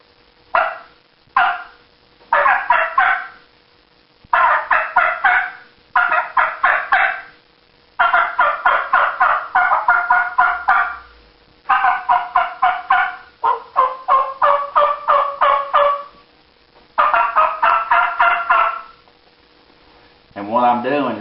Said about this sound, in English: I'm opening and closing my lips to pop that air in and out real fast to get that cutting sound